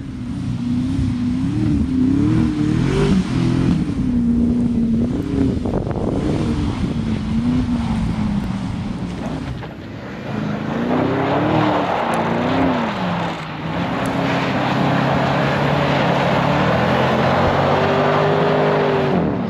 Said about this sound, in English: other than the sound of, you know, twin turbo V8 Urus